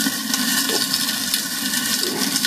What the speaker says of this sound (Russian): Шумность, слышите сами, какая, как она шкварчит